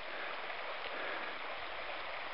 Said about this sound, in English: this is one of the creeks along the trail that we're running across here.